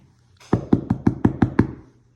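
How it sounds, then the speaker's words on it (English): Seven sharp knocks on a wall inside a home, evenly spaced and close, standing alone against a quiet room. "I'm going to knock on the wall so she can't see me."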